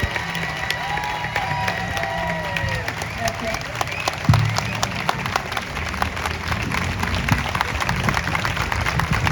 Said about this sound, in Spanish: Bien fuerte el aplauso para la compañera intendenta de Montevideo, Carolina Cose.